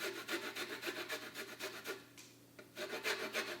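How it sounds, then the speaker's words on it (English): Lemon zest is grated onto the crust of an apple pie with quick, quiet rhythmic rasping strokes. A brief pause falls midway before the scraping resumes. "we're just gonna add a little bit of lemon zest"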